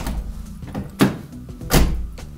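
Doors on a roughly 30-year-old Toyota Mark II are shut, giving two distinct close thunks about a second apart over low background noise.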